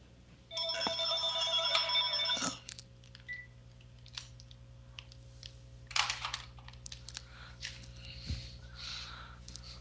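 A telephone rings indoors in a quiet room, one long burst of electronic trilling that stops abruptly, followed by faint clicks and rustles.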